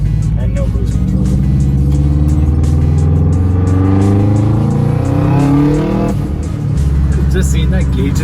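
A turbocharged Subaru Forester with a swapped turbo accelerates hard, its engine revving in rising, loud tones heard from inside the cabin, with a brief dip and renewed climb, while people talk over it.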